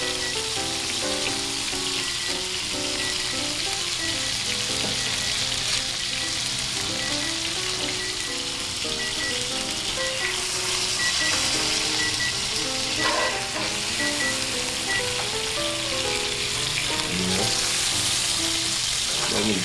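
Teriyaki steak and shrimp sizzle on a hot griddle in a steady, close hiss and crackle, while music plays in the background throughout.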